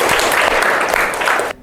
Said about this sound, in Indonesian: Beri tepuk tangan kepada Najwa.